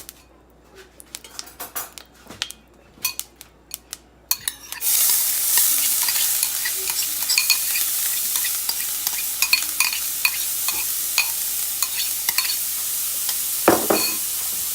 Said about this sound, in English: we're gonna start on the fried cabbage